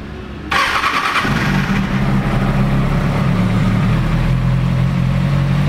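A 2007 Kawasaki ZX6R Ninja with its factory exhaust cranks and fires up after a brief starter whir, then settles into a loud, steady idle close by with no talking.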